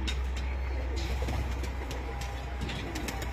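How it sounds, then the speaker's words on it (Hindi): Pet pigeons, pure white with some black markings, coo softly nearby in a short run of low, rolling calls over a steady low background rumble, with no talking. "हाई क्लास कबूतर है।"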